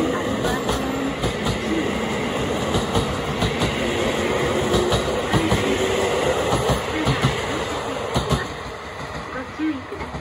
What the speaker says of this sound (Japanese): 2番線に列車が到着いたします。